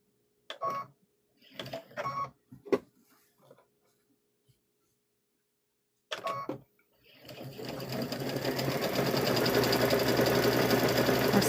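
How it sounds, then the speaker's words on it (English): A sewing machine runs a steady quarter-inch seam on a hummingbird and butterfly quilt block. A voice speaks briefly first, then the machine's loud continuous whir takes over and holds to the end. "We're sewing it all together"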